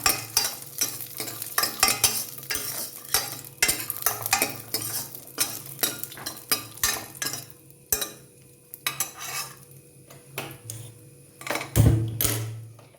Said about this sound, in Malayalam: അണ്ടിപ്പരിപ്പൊന്ന് വറുത്തെടുക്കാം